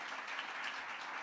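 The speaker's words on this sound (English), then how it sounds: "Just give them a round of applause." Faint, distant audience applause at the launch of an indigenous knowledge registration system, a soft continuous patter of clapping.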